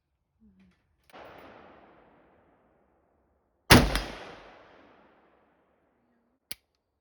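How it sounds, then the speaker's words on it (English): An AK-pattern PSA JAKL rifle fires outdoors, one sharp loud report with a long rolling echo after an earlier softer thud, then a brief faint click near the end; no voices. "I may only shoot this one mag, okay?"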